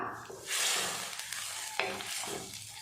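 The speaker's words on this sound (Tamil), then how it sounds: "சேர்த்துட்டு நல்லா கலந்து விட்டுடலாம்." A spoon scrapes and stirs through a bubbling pot of okra sambar, with clinks and a soft sizzle in quick irregular strokes nearby.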